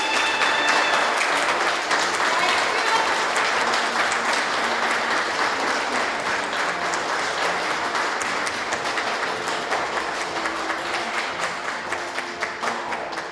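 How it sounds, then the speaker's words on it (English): Applause from the audience at a Royal Canadian Sea Cadets annual ceremonial review, dense and steady at first, then thinning into scattered claps as it fades. "Give them a big round of applause,"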